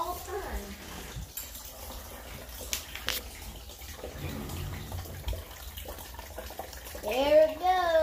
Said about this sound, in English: That thing splashed water.